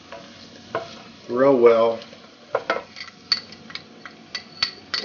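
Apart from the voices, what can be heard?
stirring chopped garlic into pot for ribollita soup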